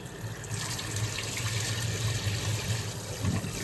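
Tap water runs steadily into a vessel as grains for dosa batter are washed, a close, continuous splashing rush with some sloshing and light knocks of the grains being rinsed.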